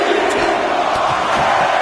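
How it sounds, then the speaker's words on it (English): Dense arena crowd roaring and cheering during a WWE 2K25 wrestling match, a steady, loud wash of many voices throughout with no pauses. "Listen to this crowd."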